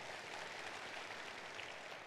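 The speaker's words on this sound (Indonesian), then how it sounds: "Tepuk tangan buat Anda semuanya" Audience applause in a motivational seminar hall: a dense, even wash of many hands clapping that holds steady throughout, fairly soft and distant, with no voices over it.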